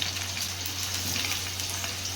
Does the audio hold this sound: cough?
no